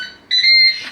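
A Ninja Speedi multi-cooker gives a single steady electronic beep with a clean tone, close and fairly loud, lasting about half a second.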